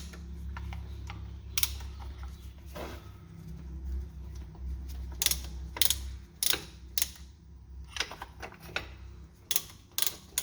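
Brake caliper tool pressing back the twin pistons of a dual-piston brake caliper during a brake job: a low mechanical drone with a series of sharp ratcheting clicks and clacks, close and growing more frequent toward the end.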